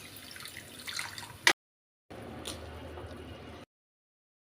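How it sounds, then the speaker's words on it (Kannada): Water poured into ground egg masala in a pan while making egg ghee roast, two short steady pouring bursts separated by a silent gap, close and fairly quiet. "ಇವಾಗ ಸ್ವಲ್ಪ ನೀರು ಹಾಕ್ಕೊಳ್ತಿದ್ದೀನಿ."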